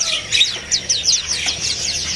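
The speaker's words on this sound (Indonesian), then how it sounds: "Di kios ini juga ada burung pleci ya" Pleci birds, or white-eyes, at a bird kiosk in a market, giving a quick series of high, thin chirps and tweets in rapid bursts, close and fairly loud, with no talking.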